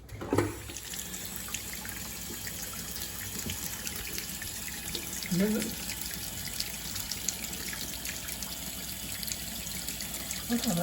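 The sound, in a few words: water washing mill scale off steel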